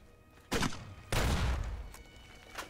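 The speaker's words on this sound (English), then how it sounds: "So that aiming with this grenade rifle is not helpful." Two booming grenade rifle shots in the video game Fallout New Vegas, the second longer with a rumbling blast tail, plus a fainter thump near the end over a steady game ambience.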